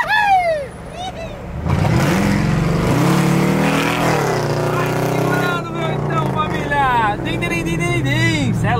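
A worn, faulty Ford Ranger pickup truck revs and accelerates close by, its engine note rising and falling in loud surges, while someone shouts and talks over it.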